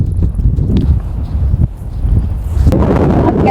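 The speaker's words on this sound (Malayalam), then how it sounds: "ഒടുക്കത്തെ കാറ്റ്." Strong wind gusts at a volcanic eruption site buffet the microphone with a continuous low, rumbling roar that swells and then surges louder toward the end, with no talking.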